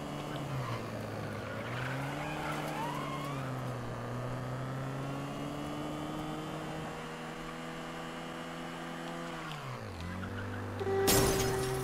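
Taxi car speeding in during the video game Mafia III, with a sustained engine drone that rises and falls in pitch, then dips as it slows, ending in a brief sharp crash.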